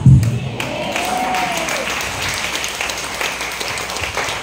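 An audience at a sermon on life plans breaks into applause, a dense wash of clapping that stays steady throughout, with a voice briefly audible early on.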